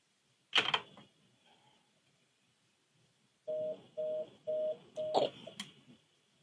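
A mobile phone call is being placed: a sharp click, then four evenly spaced mid-pitched tone beeps over a faint steady high whine, with no voices.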